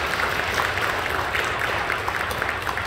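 Church congregation clapping in encouragement during a Saturday dawn prayer service in Incheon, a dense, steady wash of hand claps with a faint voice or two underneath.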